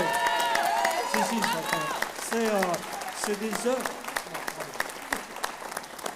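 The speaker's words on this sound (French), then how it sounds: "Vraiment, on peut l'applaudir chaleureusement" An audience at a wind band concert claps steadily with a few cheers while someone speaks over the applause.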